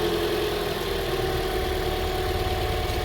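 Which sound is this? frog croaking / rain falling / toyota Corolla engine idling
toyota Corolla engine idling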